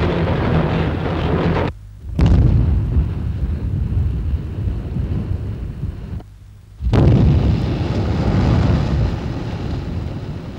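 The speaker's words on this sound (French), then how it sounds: "À coups d'explosifs, on désagrège la montagne pour mettre à nu," Deep, rumbling explosive blasts in an open-pit coal mine at Decazeville roar across the open air, two heavy booms separated by brief silences, with wind buffeting throughout.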